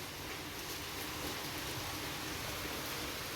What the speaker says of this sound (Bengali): এখন বৃষ্টিটা একটু কমেছে কিছুক্ষণ আগে তো মুষলধারে হচ্ছিলো